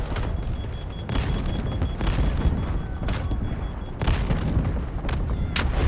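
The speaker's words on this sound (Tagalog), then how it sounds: "May bumabaril dito eh" Gunfire in the Delta Force Hawk Ops video game, loud sustained automatic bursts with sharp cracks and booming impacts, dense and continuous with brief gaps, close and overpowering.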